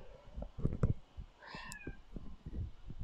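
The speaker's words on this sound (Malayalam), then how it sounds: "എൻ്റെ പൂച്ചയ്ക്ക് ബഹളം വെക്കുന്നു" A cat meows faintly a couple of times amid soft indoor rustling and thumps, fairly close but quiet.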